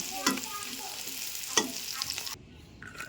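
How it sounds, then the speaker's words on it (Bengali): Dried poti shutki fish frying in a pan, with a steady close sizzle and a few sharp stirring scrapes, before the sizzle abruptly drops away near the end. "আমি এগুলা ভালোভাবে ভেজে নিব"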